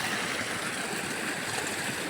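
Water flows steadily out of a flooded field as it is drained for rice transplanting, a continuous broadband rush like a small stream, with no clear talk.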